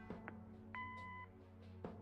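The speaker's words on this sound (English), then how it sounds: "Leave a message after the beep." A short electronic voicemail beep in the video game Kathy Rain sounds over a low steady hum, followed by a few faint clicks and another brief blip near the end.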